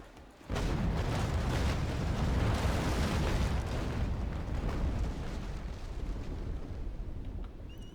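Incoming cannon fire striking a ship during a Naval Action sea battle, a heavy rumbling barrage of booms that erupts suddenly after a quiet start and keeps rolling loudly for several seconds without any talk.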